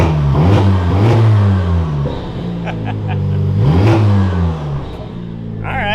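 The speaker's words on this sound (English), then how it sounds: "that's a pretty decent idea of what this car could possibly sound like with the AWE kit" A Honda Civic Type R FL5 fitted with an AWE Touring exhaust revs repeatedly, its loud engine note climbing and falling in several sharp pulls over a steady idle.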